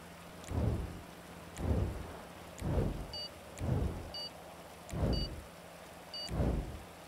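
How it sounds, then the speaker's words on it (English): Heavy rain pours steadily in the GTA Online racing game while six rolling thunder rumbles recur at roughly one-second intervals, with faint chirping tones above the downpour. "Heavy rain."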